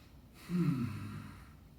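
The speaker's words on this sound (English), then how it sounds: "Try to do some deep breathing." A single deep, audible breath taken during a plank exercise, a soft rushing exhale lasting about a second, close and quiet with no talk.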